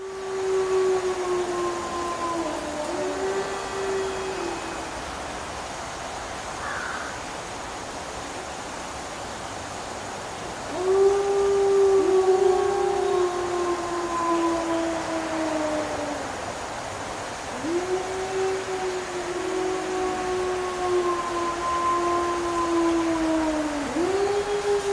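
A wolf pack howls, picked up by an outdoor surveillance camera: several long, gliding howls overlap and rise and fall in pitch, moderately distant over a steady background hiss, with quieter gaps between bouts.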